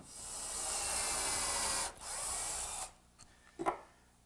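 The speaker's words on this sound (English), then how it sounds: "To secure the frame to the base, I'm drilling for some 2 1/2 inch screws" A power drill bores screw holes for 2 1/2 inch screws into a wooden miter bench frame, two long whirring runs followed by a few short bursts and taps, close and loud with no talking.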